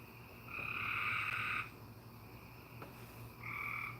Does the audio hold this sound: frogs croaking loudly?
yes